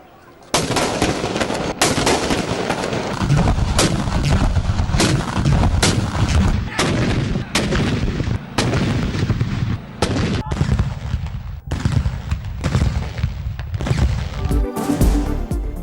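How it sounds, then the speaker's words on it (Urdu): Cannons fire a salute at the start of the day, with a long series of loud, sharp booms repeating every second or two over crowd ambience and rumbling echoes. "دن کے آغاز پر توپوں کی سلامی"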